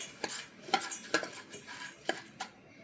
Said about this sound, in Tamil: இந்த மாதிரி நல்லா மிக்ஸ் பண்ணிக்கோங்க